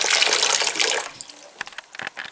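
Blackberries are swished and rinsed in water, a loud close splashing and gushing that fades after about a second into scattered drips and small sloshes.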